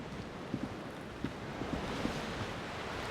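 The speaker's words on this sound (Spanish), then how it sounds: "Se escucha el mar." Gentle sea surf washing steadily in the Disco Elysium game world, a soft continuous wash with faint wind and a few small splashes, fairly quiet and distant.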